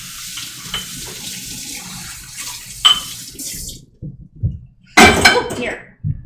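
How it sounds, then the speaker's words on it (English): Lids washed by hand in a sink of hot soapy water, with running tap water, sloshing and splashing, and hard clinks and clatters of the lids, close and fairly loud, with a sharp splashy burst near the end. "I put them in some soapy water, hot soapy water"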